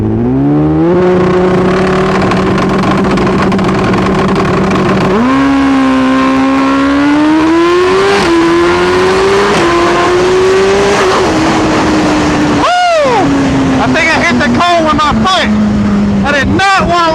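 A turbocharged Suzuki Hayabusa with a CM tune launches at full throttle, its engine note climbing steadily through the gears without a lift, loud and close, with sharp upshift breaks and rising harmonics near the end.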